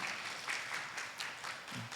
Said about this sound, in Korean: 환영의 박수 보내겠습니다